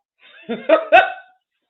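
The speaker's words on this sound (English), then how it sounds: "just a slight little hiccup right there" A person hiccups during a church gathering, making three short, close voiced bursts that rise in loudness and sound almost like a stifled laugh, alone against silence.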